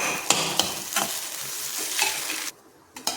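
Spoon or ladle chopping and scraping through cooked egg in a pan over a low flame, with sharp scrape strikes at irregular intervals over a steady sizzle. The sound drops out briefly near the end, then returns.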